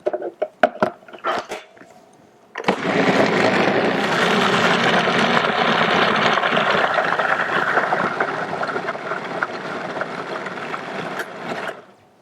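A food processor blends a raw vegan oatmeal mixture. A few clicks and knocks come first, then the motor starts into a steady, loud whirring churn that runs for about nine seconds before stopping.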